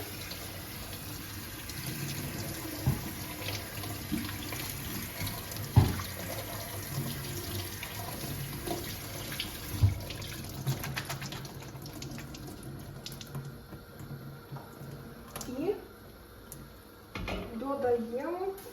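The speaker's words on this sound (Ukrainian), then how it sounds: "Заливаємо холодною водою." Cold water runs from a tap into a pot with a continuous gushing splash, with some clinks and handling noises, and a voice speaks briefly near the end.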